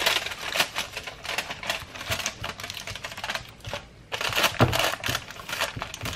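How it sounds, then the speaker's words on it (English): Aluminium foil crinkles and crackles up close as it is pressed over a stuffed chicken breast, in a busy run of crisp rustles with one short lull. "cover it with foil"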